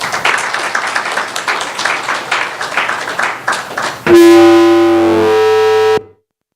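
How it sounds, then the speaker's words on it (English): Audience applause at a talk, a steady patter of clapping for several seconds that then cuts to a loud, distorted electronic tone which ends abruptly. "give a big round of applause to Ben"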